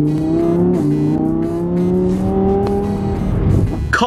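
An Audi R8 drives through rain, its engine note loud and close with a steady tone that shifts pitch partway through, then a sharp transient at the end.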